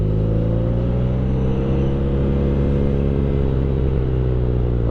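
A BMW R nineT Pure motorcycle on the road, its engine braking as it slows, a steady loud low-pitched drone with a rumbling rhythm and strong wind noise throughout, close.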